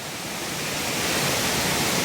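Mettuguda waterfall near Seethampeta, running with heavy flow, fills the air with a loud, even rush of water heard close up, swelling slightly and continuing without pause or talk.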